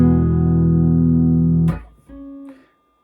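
A Harley Benton HB JA-60 electric guitar plays through a bass amp, a loud sustained chord that cuts off sharply, followed by a brief muted scrape and one shorter held note that fades out.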